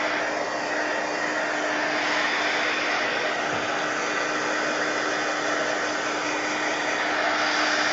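Hair dryer blowing on a mixed media artwork, a loud, steady, close roar with a constant hum running unbroken throughout.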